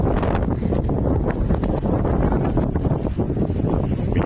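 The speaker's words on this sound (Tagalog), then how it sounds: "Mahangin." Wind blows outdoors on a cool day and buffets the microphone with a constant, loud rushing roar. Faint rustling runs through it for the whole stretch, and no voices are heard.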